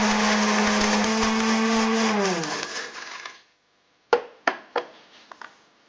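A mixer grinder loudly whirs as it powders roasted gram and curry leaves, then spins down and stops after about three seconds, followed by four sharp knocks and taps on the jar.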